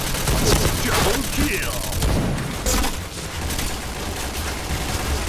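Rapid gunfire bursts in the Point Blank shooting game, a string of sharp shots and automatic volleys, loud and close, with a player talking over parts of it.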